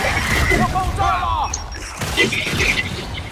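A grenade explodes in the Gears 5 video game, heard as heavy booming blasts and crackling gunfire-like bursts. The sounds are loud and close, with game voices talking over the action.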